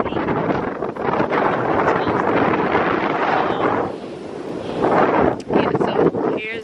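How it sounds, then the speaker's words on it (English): Strong wind buffeting the microphone outdoors at a photo shoot location, a loud continuous rumbling roar that dips briefly midway and surges again, with a voice talking over it. "it's a little windy"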